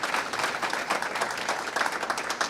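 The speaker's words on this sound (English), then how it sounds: "give an applause for the staff of the Orange Grove" Audience applause for the staff of the Orange Grove at a competition event, a dense steady wash of many hands clapping without pause, moderately loud and close throughout.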